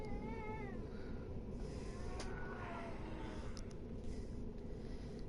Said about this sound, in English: He's going meow at me.